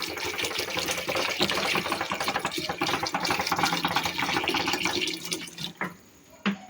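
Water poured into a pressure cooker holding bay leaves, cloves and a cinnamon piece for lobia, a steady close splashing and gushing flow that tapers off near the end.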